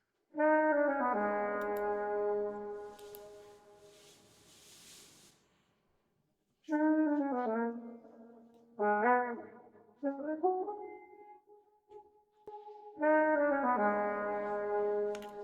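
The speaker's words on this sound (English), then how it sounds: "it's a saxophone. And it's only one saxophone" A lone saxophone-like horn plays melodic phrases in chopped segments, cut off abruptly with gaps between, a sustained note held near the end before the phrase returns.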